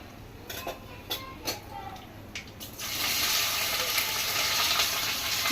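Spices and dried red chilies sizzle in hot oil as tempering for okra fry: a few sharp crackles and pops at first, then a loud, steady frying hiss that fills the rest.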